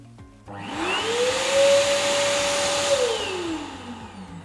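A Beaver ECO hand dryer at full power, switching on with a rising whine that holds as a loud, steady airy roar with a high tone, then winds down near the end.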